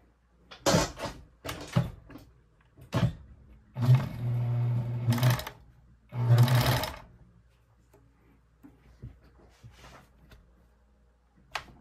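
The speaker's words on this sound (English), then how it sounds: "let's get over to the sewing machine." A sewing machine stitching beaver fur mitts runs in two short bursts, preceded by several sharp clicks and knocks, then quiet.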